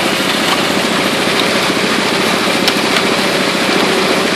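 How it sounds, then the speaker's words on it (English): A small gold drum motor runs steadily, rumbling close and loud as it shakes dirt and rocks through the rotating drum, a constant engine drone with a faint rattle and no talking. "Motor choked a little bit, shaking it as it goes."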